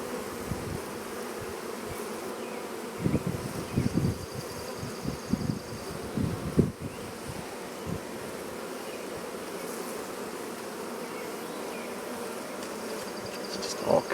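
Bees in a hive built inside a cat house, full of brood and honey, make a continuous soft buzzing hum close by, with faint rustles and a few low knocks along the way.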